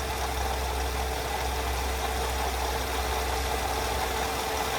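A 2001 Mercedes-Benz C240 engine idles steadily with a low continuous hum and faint broadband hiss; the crankshaft pulley is said to wobble. No voices.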